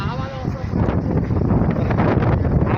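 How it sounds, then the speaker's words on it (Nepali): Strong wind buffets the microphone on a mountain trail near Pokhara, Nepal, heavy low rumbling gusts throughout, with a person talking over it. "हावा चलिरहेछ है"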